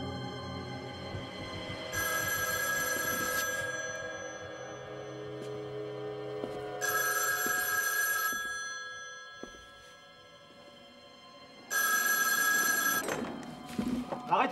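A telephone bell rings in three separated bursts, each lasting about a second and a half, over a quiet room background during a hostage standoff at a nursery school in Neuilly.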